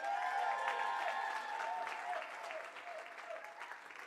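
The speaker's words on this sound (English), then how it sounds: "a warm round of applause to Ithemba Youth Choir" An indoor audience gives a youth choir a warm round of applause at a social justice event, a dense, fairly close clapping that slowly thins and fades.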